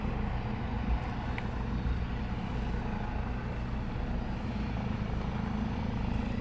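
RAF helicopters on a training flight at Shawbury, a low, steady rotor and engine drone that sounds fairly distant and holds at an even level throughout.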